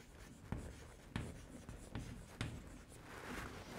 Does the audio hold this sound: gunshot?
no